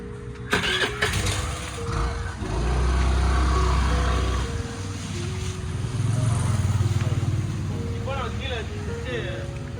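A two-wheeler motorbike fitted with training wheels runs with a steady engine drone that swells and eases as it rides, loud and close, with faint voices in the background.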